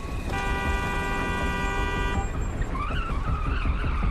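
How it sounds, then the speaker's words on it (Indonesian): A car horn blares in a long steady blast in a traffic-jam film scene, then cuts off, followed by engine and road rumble with squealing, warbling tones. "menekan tombol klakson dengan sangat kencang dan pergi begitu saja sambil menekan klaksonnya kembali"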